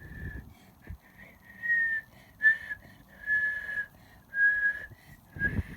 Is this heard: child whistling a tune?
yes